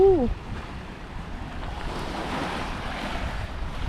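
Surf and sea waves wash onto a beach at Koh He, Phuket, a broad, steady roar mixed with wind buffeting the microphone and a brief voice at the start.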